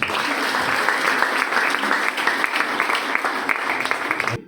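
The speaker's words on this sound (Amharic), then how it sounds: "አጨብጭቡ ለጌታ" A church congregation claps for the Lord, a loud, dense wash of many hands with sharper individual claps poking through, sustained for several seconds.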